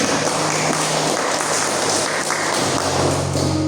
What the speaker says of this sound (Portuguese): Aplauda o nome do Senhor Jesus bem forte, amém?